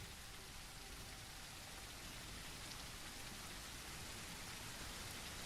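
Steady, loud rainfall in the video game SurrounDead, a continuous dense hiss of drops on surfaces with no breaks, no speech and no thunder.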